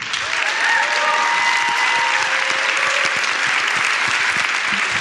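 A conference audience claps and cheers for a panel in sustained, dense applause that stays loud and even throughout.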